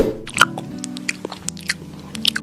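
Cartoon characters chewing and biting into home-cooked chicken and vegetables, with repeated close, moist crunches and bites over a low musical background, no talk.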